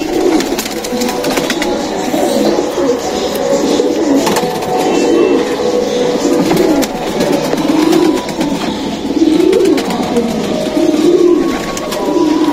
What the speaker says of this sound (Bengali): এটা আমার ঘরের অনেক পুরনো পায়রা